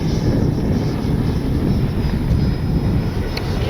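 A Freewing 80mm F-5 Tiger II radio-controlled jet flying overhead, a loud continuous ducted-fan roar and whine holding steady with a faint high tone gliding through it, no voices.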